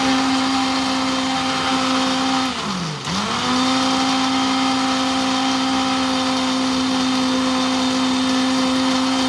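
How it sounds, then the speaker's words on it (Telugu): A mixer grinder churns cream into butter for ghee with a steady, loud motor whine that briefly dips and recovers as the load shifts, then runs on evenly. "ఇంకా బాగా గ్రైండ్ చేయాలి. ఇంకా గ్రైండ్ చేస్తే మనకి ఇప్పుడు క్రీమీగా ఉంది కదా"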